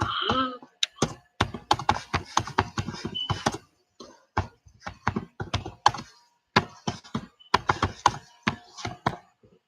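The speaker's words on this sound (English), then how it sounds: "you hear me typing away" Close, fast typing on a computer keyboard, with rapid bursts of clacking keys separated by short pauses.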